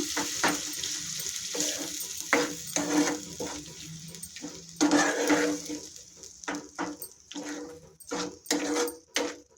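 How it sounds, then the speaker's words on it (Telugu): Tempering stirred into raw mango chutney in a pan, a soft sizzle under irregular scraping strokes of a spoon that come in short bursts with brief pauses, close and fairly quiet, with no talking. "ఇలా ఒక రెండు నిమిషాలు బాగా తాలింపు ఈ పచ్చట్లో కలిపేలా కలిసేలాగా తిప్పుకోవాలి"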